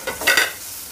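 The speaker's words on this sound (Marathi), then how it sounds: "थोडीशी क्रश केलेली मिरची घालते याच्यावरती. त्यात लगेच आपण हे बटाटे घालून घेऊया." Potatoes tossed into hot oil with curry leaves and crushed chili for a fasting recipe, giving a short burst of sizzling and stirring that peaks early then settles to a soft fry.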